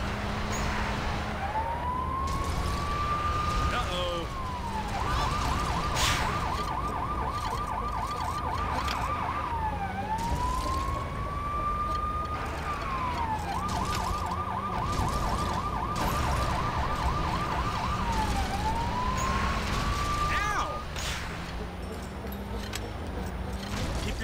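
A police car siren in the Lego City Undercover game cycles loudly between a rising wail and rapid yelp bursts, repeating steadily over continuous traffic and engine noise.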